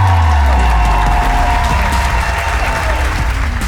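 Loud crowd applause with some cheering for comedian Ryan Sickler as he is introduced at a stand-up comedy show, a thick wash of clapping filling the room throughout.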